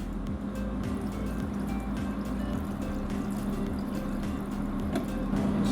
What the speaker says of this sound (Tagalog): Tapos ilalagay na natin yung ating hugas bigas.